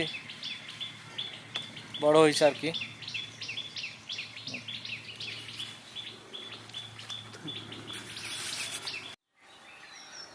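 Rapid high chirps from a young bird repeat throughout, close and fairly soft, with a person speaking briefly near the start.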